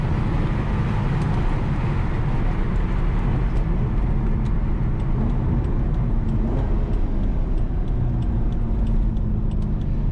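A stock 2004 Chevrolet Corvette C5 V8 drones steadily under road and wind noise from inside the cabin at a track, with faint pitch shifts as the engine downshifts; no talking.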